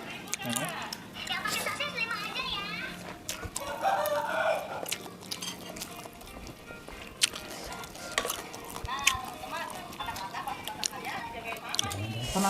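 Chickens cluck and a rooster crows amid a busy, noisy outdoor scene in Indonesia, with people talking throughout in Sundanese.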